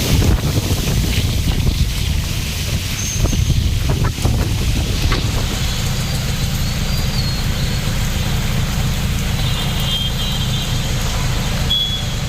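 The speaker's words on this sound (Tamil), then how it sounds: "சூறைக்காற்றுடன் கனமழை வெடுத்து வாங்கியது" Strong gusts of wind buffet the microphone on a road during a heavy rainstorm that kicks up dust, a loud continuous rumbling roar with faint traffic sounds and a brief high beep in the background.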